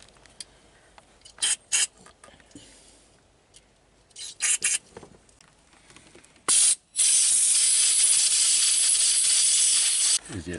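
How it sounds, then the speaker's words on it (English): Brake fluid cleaner sprayed onto an air brake part during a heavy truck air brake leak repair: a few short hissing bursts, then one long, loud, steady spray lasting several seconds, close by. "Brake fluid cleaner."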